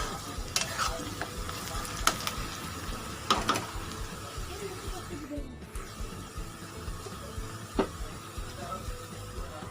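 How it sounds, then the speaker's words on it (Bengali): Onions frying in a pan until reddish-brown for a home-style chicken curry, a steady close sizzle broken by several sharp scraping stirs of the spatula. "তো পেঁয়াজটা ভালো করে আগে একটু আমি ভেজে নিচ্ছি লাল লাল করে"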